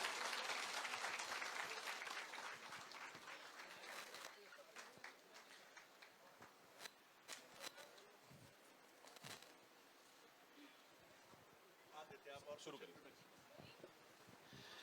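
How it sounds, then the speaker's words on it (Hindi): An audience in Bijapur welcomes guest Mir Ali Mir with applause, a thick burst of clapping that gradually thins into scattered, quieter claps with some background voices. "निश्चित तौर पर तालियां जोर से बजनी चाहिए"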